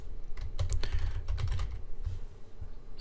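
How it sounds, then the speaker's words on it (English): Quick, steady keystrokes on a computer keyboard clatter close by without a break, set over a low rumbling background hum, with no voices. "I'll just retype it."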